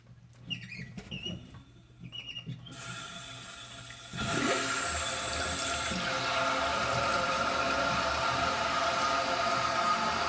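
A Toto toilet tank refilling through a newly regasketed fill valve: quiet handling sounds first, then a loud, steady rush and hiss of water that starts abruptly and keeps running unbroken to the end.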